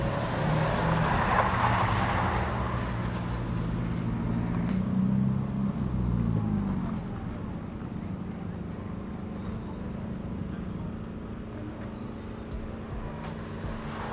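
A car drifting at a drift day, a distant engine drone and roar that is strongest early on, then settles into a steadier, fainter rumble under wind-like outdoor noise.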